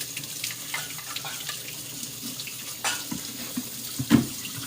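Running tap water rinses a Nama J2 juicer part in a sink, a steady splashing flow broken by a few louder splashes and clunks near the end.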